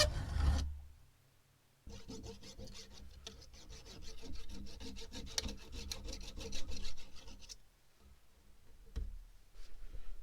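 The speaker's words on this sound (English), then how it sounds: "clamp it in the vise and shave some off the ends" A metal link from an SCX10 II RC truck, clamped in a vise, is shaved at the ends with a file: steady rasping strokes run in a close, continuous rhythm after a brief clunk and pause, then stop.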